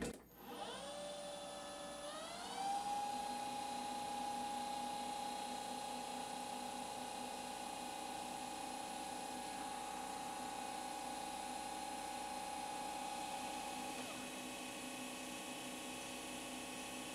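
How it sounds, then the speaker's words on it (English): A lathe faces off the end of a tiny part with a DCMT turning tool, giving a steady whirring hum with a sustained tonal whine that holds evenly, close and moderately quiet, with no speech. "Let's use the DCMT turning tool to face off the end"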